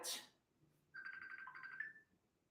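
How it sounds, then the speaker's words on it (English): Phone ringtone for an incoming call, a faint electronic tone pattern repeating for about a second with a brief noisy burst before it. "I'm getting a phone call."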